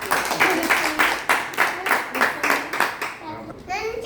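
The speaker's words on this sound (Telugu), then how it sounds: "చప్పట్లు కొట్టండి." A Christian meeting hall audience, children among them, claps in a steady rhythmic beat of about two claps per second that stops near the end.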